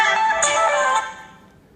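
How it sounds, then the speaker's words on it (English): A customized phone ringtone made in the Gosh LinkFone app plays loudly as a bright, chiming melodic tone with a couple of sharp accents, then decays and fades out near the end, with no voices. "Okay, now you have made your customized ringtone."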